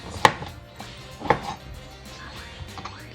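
A kitchen knife slices through eryngii mushrooms on a cutting board, two sharp, distinct chops about a second apart followed by softer, fainter scraping and tapping, close and clear with no talking.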